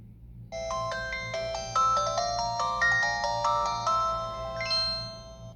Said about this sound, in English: You guys will be able to hear the startup sound if there is one.